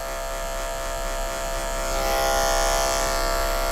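Electric hair clipper buzzing steadily while rocked into a skin fade haircut, a loud electric hum with strong harmonics that rises slightly in intensity halfway through.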